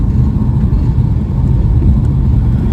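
Steady low rumble of a car driving along the road, a continuous, loud, close engine and road drone with no breaks.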